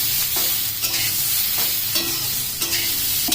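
Ingredients frying in hot oil with black cumin for a bharta, a continuous sizzle broken by repeated scraping stirs of a spatula against the pan, close and clear with no talking.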